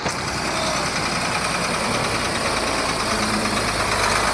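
A heavy diesel tractor truck engine rumbles steadily and loudly throughout as the truck works, a constant mechanical drone with no voices.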